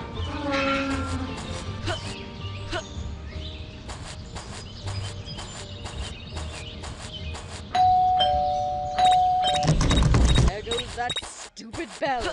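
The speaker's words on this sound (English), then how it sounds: "Bell again." Doorbell ringing in the Scary Teacher 3D mobile game: a sustained electronic chime tone rises over a busy game soundtrack of rhythmic clicks and animal-like cartoon noises, with character voices throughout.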